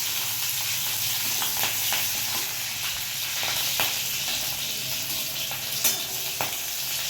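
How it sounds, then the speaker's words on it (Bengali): Nigella seeds and chillies sputter in hot oil for a fish curry, a continuous crackling sizzle with scattered sharp pops and light stirring, no one speaking. "কালো জিরে ফোড়ন দিতে হবে আপনাদেরকে। তারপরে লঙ্কা দিয়ে দিতে হবে।"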